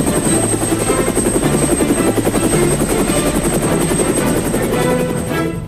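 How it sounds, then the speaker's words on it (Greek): Loud, close helicopter with a rapid, steady rotor beat and a high whine, sustained throughout before easing slightly at the end. "Ελικόπτερα GAP4 σε 2 χρώματα, λευκό και πράσινο."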